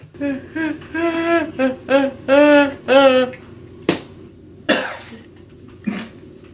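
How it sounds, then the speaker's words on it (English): A few sharp, isolated coughs come after a stretch of breathy vocal sounds, each cough a short burst with pauses between. "Stop coughing."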